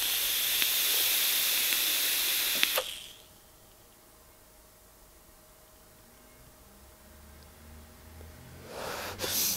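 A long, loud hissing draw of vapour from an e-cigarette, followed by a quiet pause with a faint hum, then a rising breathy exhale of vapour toward the end.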